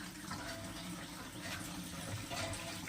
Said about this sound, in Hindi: लेकिन माँ इसके बावजूद भी पानी भर रही है।